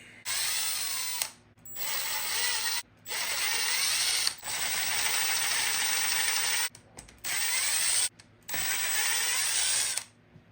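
Ratcheting clicks from a hand tool loosening the tightly sealed 3-piece differential case on an FLM V2 Baja RC car, coming in close, steady bursts separated by short pauses, with no talking.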